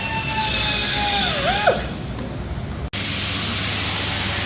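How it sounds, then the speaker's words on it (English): A die grinder cuts out rust holes on a Holden chassis in a workshop, a loud high whine that falls in pitch as it bogs into the metal, then a steady hissing grind. "making noise with the die grinder, fixing some rust holes on the Holden chassis"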